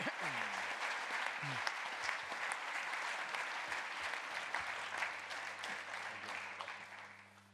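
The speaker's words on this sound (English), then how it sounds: "please join me in welcoming Rajan with a big round of applause" Sustained applause from a lecture audience welcoming a distinguished lecturer, steady dense clapping across the whole stretch that tapers slightly at the end, with brief murmurs mixed in.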